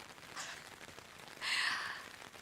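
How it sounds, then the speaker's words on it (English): Rain ambience playing at low volume, a faint steady hiss of falling rain with a brief brighter swell partway through, with no one talking over it. "is the rain a good volume now?"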